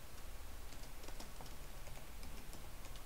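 Quiet, rapid tapping on a computer keyboard while an email subject line is typed, a steady run of soft clicks with no voices.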